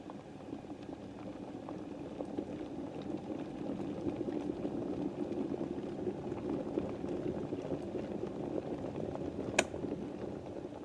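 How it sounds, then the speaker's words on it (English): Water at a rolling boil inside a half-filled electric kettle makes a steady, dense bubbling rumble that holds evenly throughout, with a small click near the end. "you can see the liquid is now boiling inside the white one"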